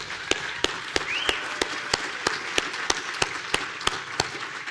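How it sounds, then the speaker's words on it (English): Audience applause at a climate conference talk: a dense wash of clapping with regular sharper claps standing out in a steady rhythm, moderately loud and continuous throughout. "Round of applause for that."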